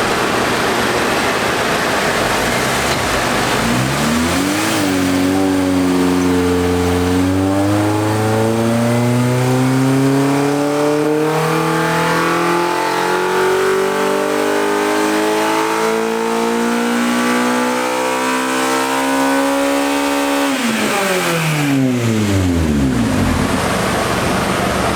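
A stock Honda K20 engine in an Integra revs hard on a dyno, its note sweeping up through VTEC crossovers, holding high and then dropping away, loud and continuous with no talking.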